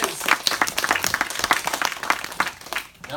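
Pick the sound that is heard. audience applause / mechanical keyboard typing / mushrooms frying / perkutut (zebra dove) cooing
audience applause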